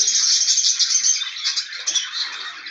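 A flock of small birds in an aviary keeps up a continuous, high, busy chorus of chirps and tweets, fairly close and with no voices over it.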